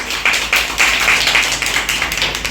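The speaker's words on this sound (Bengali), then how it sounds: "জোরে একটা করতালি।" An audience at an award ceremony of an art school's autumn arts festival claps steadily, a loud, dense patter of many hands close by with no pauses.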